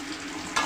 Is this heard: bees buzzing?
no